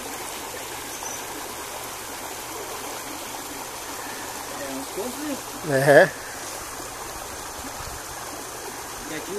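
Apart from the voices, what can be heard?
water streaming out of a clogged well pipe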